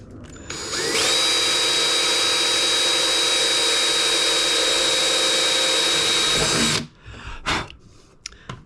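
A power drill bores a 6mm hole through the gel-coated hull of an RC boat, running at a loud, steady whine for roughly six seconds before stopping, followed by brief handling noises.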